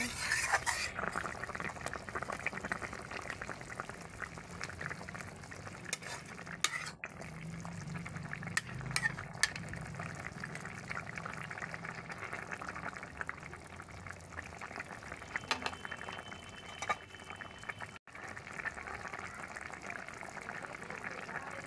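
A fish curry with taro, eggplant and potato simmers in a pot, with soft continuous bubbling and occasional utensil clinks and stirring, quiet and close throughout.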